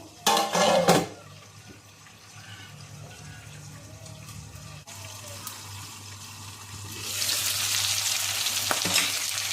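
Chicken pieces for Arabian chicken kabsa fry in a pan, a steady close hiss with a louder burst at the start and the sizzle rising again near the end, no voices.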